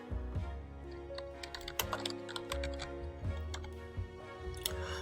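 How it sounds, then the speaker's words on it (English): Typing on a computer keyboard, entering a search for Google Trends: a steady run of close, crisp key clicks with uneven rhythm and occasional louder strikes over a faint hum. "I'm going to type in Google Trends here."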